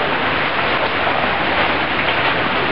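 Heavy tropical rain in Southeast Asia pours steadily in a dense, constant hiss, loud and close, with no breaks, causing local flooding.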